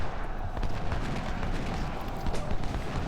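Massed musket volleys and artillery fire from a Civil War battle in Ultimate General: Civil War, with troops firing from barns; a dense, continuous roar of overlapping shots with no clear individual bursts.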